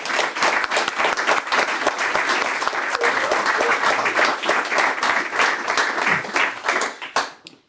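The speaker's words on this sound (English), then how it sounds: "Let's have a round of applause for the Air Force's newest Senior Master Sergeant" An audience at a U.S. Air Force promotion ceremony at Lajes Field in the Azores bursts into loud, full applause for a new senior master sergeant, sustained and then quickly fading to silence.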